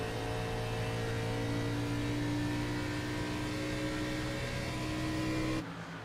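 A race car engine drones steadily at high revs on the Pocono Raceway track in an online racing game, loud and constant with a slight rise, then cuts abruptly near the end.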